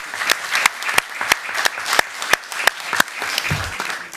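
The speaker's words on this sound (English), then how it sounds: "give them both a round of applause" A round of applause from the audience at a city council meeting, with steady clapping and sharp individual claps sustained across the whole stretch, moderately loud and without talk over it.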